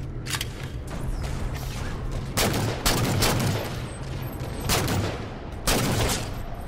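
Repeated bursts of gunfire in a Halo multiplayer match, several sharp volleys a couple of seconds apart over a constant bed of game ambience.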